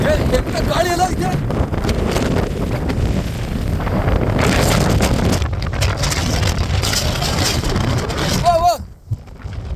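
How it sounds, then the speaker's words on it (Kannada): Strong wind buffets the microphone on a boat trip, a loud continuous rushing roar with gusts that runs nearly the whole time and drops away abruptly near the end, with voices and other noise mixed in. "ಗಾಳಿ ಎಲ್ಲ ಇದೆ."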